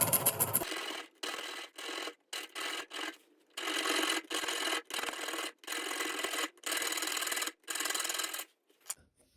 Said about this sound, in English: You can easily sharpen these, like a little needle file.